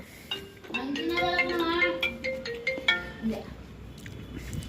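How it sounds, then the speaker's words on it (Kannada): A mobile phone rings indoors with a melodic, repeating ringtone for an incoming call, moderately loud, while a person talks and light kitchen clinks sound in the background. "ಫೋನ್ ಮಾಡ್ತಾ ಇದ್ದಾರೆ ಬನ್ನಿ"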